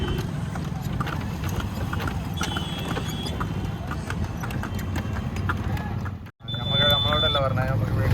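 Hooves of a horse-drawn cart clip-clop in a steady rhythm along a busy street in Nepal, with people talking over the hoofbeats and a brief whistle-like tone.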